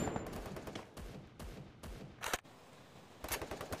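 Gunfire in the mobile shooter Free Fire during a ranked Clash Squad 4vs4 match: several sharp, loud shots and short bursts spaced across the moment, with a brief lull before a final rapid volley, no voices.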